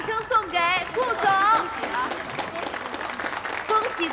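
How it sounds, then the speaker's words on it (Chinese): Applause at an auction as a winning bid is hammered down, clapping from a crowd spread throughout, with voices calling out and speech over it. "来，我们把掌声送给顾总"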